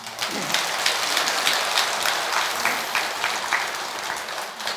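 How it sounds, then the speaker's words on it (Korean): Sustained applause from a large audience fills a Korean Buddhist Avatamsaka Sutra dharma assembly at Tongdosa temple, a dense, even wash of clapping heard alone throughout. "모든 사부대중들에게 큰 박수를 보내주시면 감사하겠습니다."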